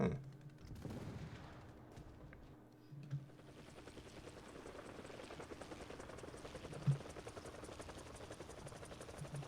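A helicopter in the War Thunder video game flies with a steady, muffled rotor drone, while scattered gunfire bursts and thuds sound at low volume, some of them distant.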